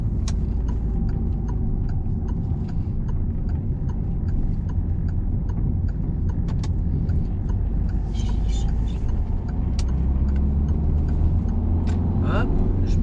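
A car driving steadily with a constant engine and road rumble, shifting up to third, braking to slow, then dropping into second, with faint clicks and ticks from the cabin.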